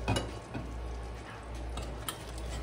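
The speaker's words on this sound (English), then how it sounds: "we're just gonna give our meatballs another stir, just so they don't stick to the bottom" Meatballs being stirred in a pan give off a soft, steady sizzle and frying crackle, with a few light scrapes and clinks of a utensil against the pan.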